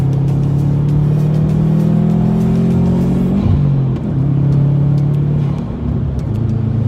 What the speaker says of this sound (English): I hope y'all can hear the turbo noises, man.